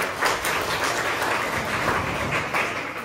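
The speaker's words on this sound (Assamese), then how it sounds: "মই আপোনালোকক অনুৰোধ জনাম যে আমাৰ অধ্যক্ষ মহোদয়ৰ কাৰণে সকলোৱে এটা হাত চাপৰি দিয়ক" Applause from students for the college principal in a hostel gathering, a moderate, steady patter of many hands clapping at a middle distance, with no speech over it.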